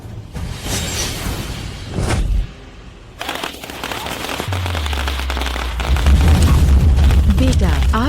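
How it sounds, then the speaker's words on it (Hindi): Firecrackers set off during a chaotic confrontation with a fire burning, giving sharp, loud bursts and crackling pops in the first seconds, then a denser rumbling din with voices and heavy background sound. "पटाखे चलाओ।"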